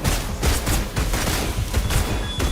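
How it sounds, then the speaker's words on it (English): Rapid gunfire in the video game Wuthering Waves, a dense, loud burst of overlapping shots and booms that runs without a break through the whole stretch, with no talk over it. "Let the bullets fly."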